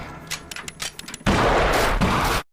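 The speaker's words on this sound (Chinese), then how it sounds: "这时杰罗姆骑马追来， 爬上屋顶，对着屋内一通乱扫。" Sharp clicks and thumps give way to a dense, sustained burst of rapid gunfire, sprayed from a rooftop into a house in a Western film, that cuts off abruptly.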